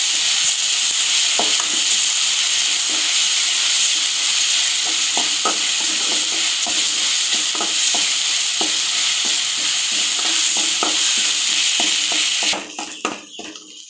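Ginger, garlic and onion sautéed and stirred in a pan for vegetable sabji give a loud, constant sizzle and hiss, with scattered scraping ticks from stirring, before the frying noise cuts off abruptly near the end.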